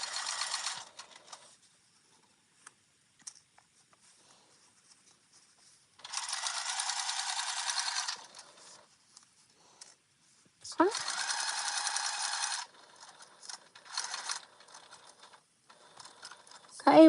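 A sewing machine runs in two steady bursts of about two seconds each, stitching a 1/8-inch seam around a park bag, with quieter pauses and speech-like sounds between the runs.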